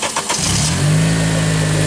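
An Acura TSX fitted with a newly installed HPS intake cranks briefly and fires up, settling into a steady, loud idle hum right after starting.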